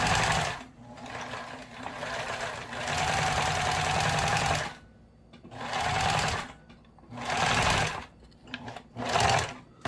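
A sewing machine runs in several bursts of rapid, steady stitching, stopping and starting with short quiet gaps between runs, close and fairly loud.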